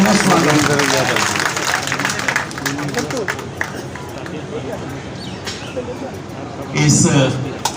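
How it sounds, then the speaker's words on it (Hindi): Crowd applause at a protest sit-in supporting wrestlers, a loud burst of clapping and crowd noise with voices mixed in, fading into babble before a brief swell near the end. "एक बार जोरदार तालियां बजा करके हार्दिक अभिनंदन है, स्वागत"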